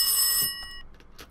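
A telephone bell rings in the horror video game Rise Of Insanity: one short, bright burst of ringing that cuts off quickly, leaving faint scattered sounds.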